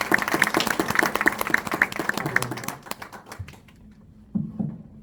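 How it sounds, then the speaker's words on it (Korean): Applause from members at a Democratic Party members' meeting with a lawmaker, a burst of many hands clapping in quick rhythm that thins out halfway through and fades, followed by a brief murmur. "여러분들께서 우리 김병조 의원님을 위해서 박수 크게 한번 주십시오."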